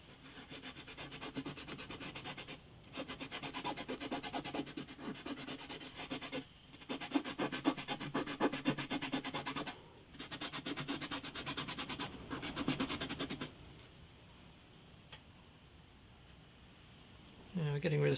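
Rubbing strokes scrub dirt from the top of an antique parlour guitar, coming as repeated bursts of rough, close scraping with short pauses between them before quieter handling at the end.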